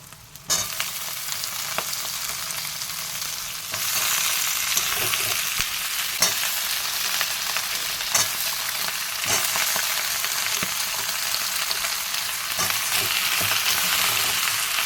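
Vegetables, including small whole potatoes, sizzling steadily in a hot pan with dried chili, with occasional clicks and scrapes of stirring; the sizzle grows louder after a few seconds and continues alone.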